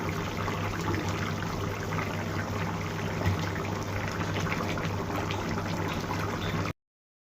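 Fish curry gravy simmers in a covered pot, giving a steady, close bubbling hiss with a low, even rumble that holds at constant loudness for the whole stretch, with no voices.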